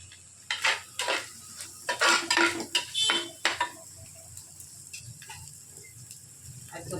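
Egg fried rice cooking in a pan, with bursts of sizzling and clattering spatula strokes against the pan in an uneven rhythm, then quieter frying.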